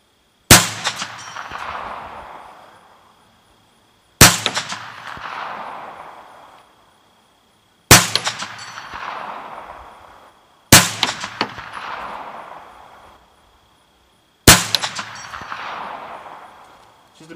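Five shots from a Ruger PC9 pistol-caliber carbine fired at steel targets 100 yards away, each a loud sharp crack trailing into a long ringing decay, spaced a few seconds apart with no talking.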